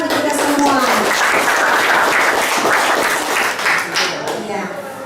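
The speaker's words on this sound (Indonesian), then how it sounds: "Tepuk tangan untuk kita semua." Students in a junior high school classroom break into loud, close clapping that stays dense for several seconds before tapering, with voices mixed in.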